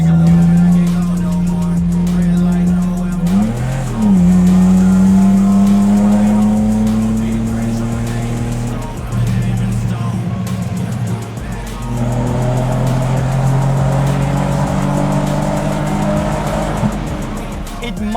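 A manual BMW E36 with 190 horsepower is driven hard, its engine revving loudly and climbing through gears with rising, falling pitch sweeps and brief tire squeal, continuous and close throughout.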